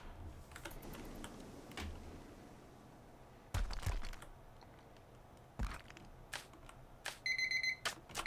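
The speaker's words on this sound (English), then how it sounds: "Oh, there's my timer." An electronic timer alarm beeps in a rapid, evenly spaced pulse near the end, after scattered clicks and clatter over a low background hum.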